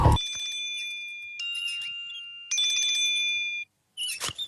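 A telephone rings in a Telugu action film scene, bursts of bright electronic ringing repeating with short gaps, loud and close with no talk over it.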